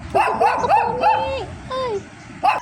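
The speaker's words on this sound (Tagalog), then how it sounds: "Ingay din ang aso dun." A dog outdoors gives a quick run of yips and whimpering barks, five or six sharp calls close together, then a longer whine and one more bark after a short pause.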